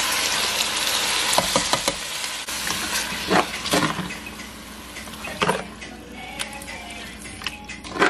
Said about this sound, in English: I'm just going to let this saute down